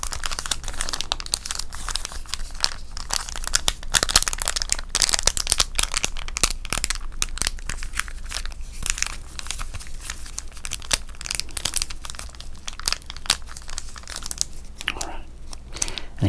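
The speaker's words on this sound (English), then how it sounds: "this is also an ASMR channel, so we do some crinkles" Old Beckett baseball card price-guide magazine pages crinkled and handled up close, a steady dense run of crisp crackles and rustles with sharper crunches throughout, no talking.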